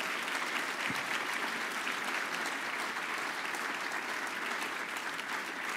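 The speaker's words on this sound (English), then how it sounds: "One more round of applause for these wonderful heroes." A steady, dense wash of clapping from a banquet crowd at a fundraising dinner honoring military veterans, constant in level throughout with no breaks.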